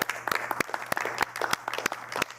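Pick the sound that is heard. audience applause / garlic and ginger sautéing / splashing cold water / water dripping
audience applause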